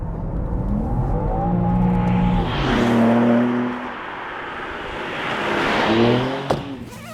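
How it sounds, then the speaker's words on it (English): A BMW M3 Touring slowing and pulling over, engine tone sweeping up and down through shifts with tire and road noise, fairly loud and heard from inside the cabin. "So I think it's worth pulling over and just walking you through the changes that they've made."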